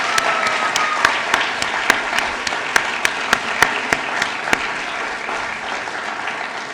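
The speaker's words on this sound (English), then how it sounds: "Can we have a massive round of applause for all of this?" A theatre audience applauds after an evening show put on by a film and TV society, a dense, steady wash of clapping with a few sharper individual claps standing out near the start, then a gradual fade.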